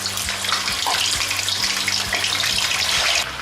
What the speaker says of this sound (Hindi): अब जो मैरिनेट किया हुआ चिकन है वो इसमें डाल देंगे और इसको हमने 10 से 15 मिनट तक फ्राई करना है